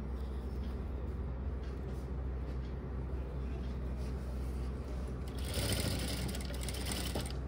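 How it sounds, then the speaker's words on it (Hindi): A sewing machine runs steadily, stitching close along the edge of a waistband strip on formal trousers, a continuous loud motor hum that briefly brightens near the end. "पट्टी पर बिल्कुल किनारे पर सिलाई लगाएंगे"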